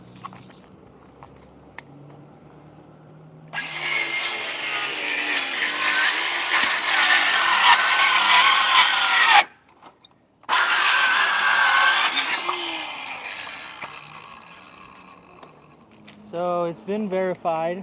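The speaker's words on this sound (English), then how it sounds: "The circular saw cannot cut through these boards." A circular saw roars for several seconds as it struggles to cut through wooden fence boards outdoors, stopping briefly and restarting, with someone speaking briefly afterward.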